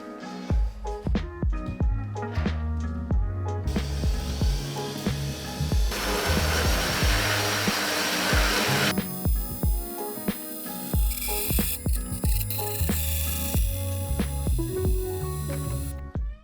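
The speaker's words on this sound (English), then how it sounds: "And the saw says it should be able to cut 150 by 245." A metal-cutting saw works through 150 by 250 millimetre square steel tubing, loud and close, with rhythmic clanking strokes and a harsh grinding roar that swells in the middle of the cut.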